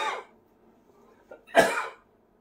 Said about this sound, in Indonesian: Sorry sahabat, saya agak batuk.